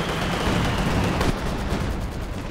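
Howitzer shells crash down in the Company of Heroes 2 strategy game during a 2v2 match, a dense wash of distant artillery impacts and rumbling blasts continuing steadily without pauses.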